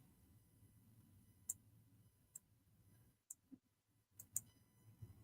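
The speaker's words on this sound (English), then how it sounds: "And the typing needs to end" Sparse, light clicks tap at irregular intervals over a quiet low hum, like scattered keystrokes, ending in a brief cluster of taps.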